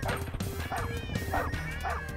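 Cartoonish dogs in the video game Crashy Cats give a string of short, high yipping barks, four evenly spaced bursts over a steady game-music bed, with no talk.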